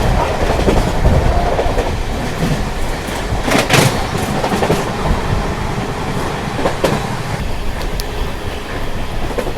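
An express train runs at full speed, around 130 km per hour, with a loud, continuous rumble and rhythmic clickety-clack of wheels over rail joints, plus occasional sharp rattles and bursts of noise.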